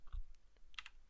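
A handful of quiet, uneven key taps on a computer keyboard as a Linux command is entered, close and soft, with no voice over them.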